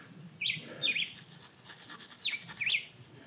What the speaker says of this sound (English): taking these dirty bolts and with my wire brush